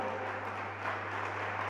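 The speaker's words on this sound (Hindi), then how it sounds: "इसलिए एक जोरदार बजाओ ताली।" Audience applause at an event, a short steady wash of clapping heard faintly over a constant low hum.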